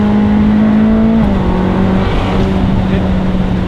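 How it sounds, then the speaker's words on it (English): A Ferrari California with a dual-clutch transmission drops down from fifth gear, its loud engine drone stepping in pitch as the gears change, steady and close with no talking. "I'm in 5th gear, we'll go down."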